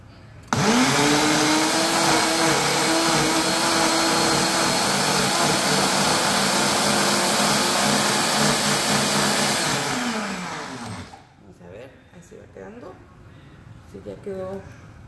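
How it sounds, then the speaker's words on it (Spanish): A blender whirs loudly and steadily for about ten seconds, grinding aloe vera, then spins down and stops, leaving faint room noise and brief voices. "voy a hacer un poquito de ruido por la licuadora"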